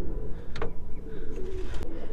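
A pet pigeon that has just laid eggs after two years coos softly nearby, giving a couple of low murmuring calls over a steady background hum.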